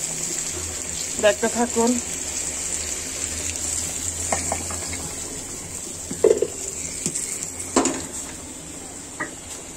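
Potatoes drop into hot oil in a pan while cooking country chicken, giving a steady background sizzle with a few clinks and stirring sounds, and a voice speaks briefly.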